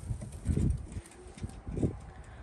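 Pure Jansen racing pigeons cooing softly in low, throaty bursts, with faint rustling and shuffling around them.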